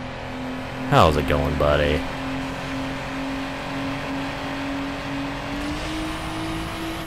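Race car engine in Need for Speed Underground holding a steady high drone, with a brief revving surge from the nitrous boost near the start and a short spoken greeting over it.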